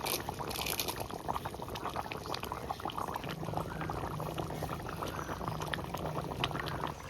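Chicken curry simmering over a wood fire as hot water is poured in, a steady bubbling and liquid hiss at moderate distance, continuous throughout without speech.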